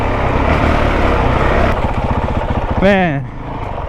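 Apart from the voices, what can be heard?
2023 Honda CRF450X dirt bike engine revving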